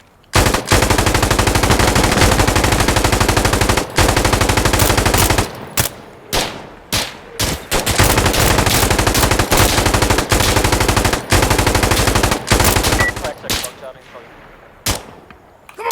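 Sustained automatic gunfire in Insurgency Sandstorm on the Farmhouse map, on extreme difficulty, loud and close, pouring out in long continuous bursts with short gaps, then breaking into choppier bursts near the end.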